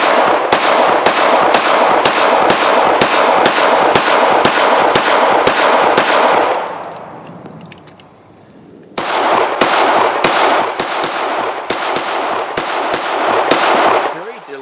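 A Vektor CP1 polymer-framed pistol fires repeated double taps outdoors, sharp loud cracks in quick pairs over about six seconds, a brief pause, then another run of paired shots.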